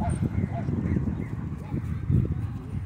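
Dogs, German Shepherds among them, wrestle and bark at a dog park: steady scuffling and rough panting noise with a few short barks, loudest near the end, continuous throughout.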